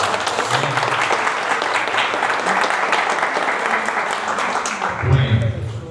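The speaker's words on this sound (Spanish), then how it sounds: "El aplauso, por favor." Audience applause after a talk on insolvency law, a steady, fairly loud wash of many hands clapping that fills the whole stretch, with a few voices and a thump near the end.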